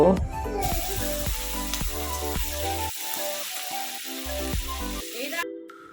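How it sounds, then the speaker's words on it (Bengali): Broad beans sizzle in a pan as chopped onions are added for a khesari greens dish, a busy frying hiss with clinks and stirring that fades near the end; faint music plays underneath. "সিমগুলো ভাজা হয়ে গেছে এবার উপর থেকে পেঁয়াজ কুলিগুলো দিয়ে দেব"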